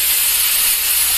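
A pressure cooker gives its first whistle while milagai killi sambar cooks, a loud, continuous steam hiss that fills the whole short moment.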